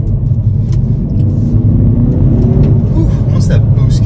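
A 2022 Hyundai Veloster N with a six-speed manual pulls hard as turbo boost builds, its engine droning loud and steady inside the cabin with a rising rumble.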